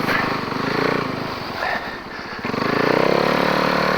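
A snowbike engine runs loud and close during a clutch test, its steady motorcycle-like drone dipping briefly in the middle before rising again.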